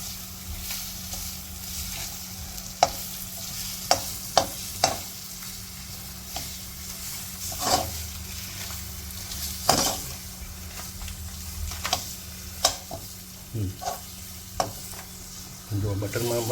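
Butter sizzles in a pan with red garlic chutney, a steady frying hiss heard close by, broken by scattered clicks and scrapes of a utensil against the pan.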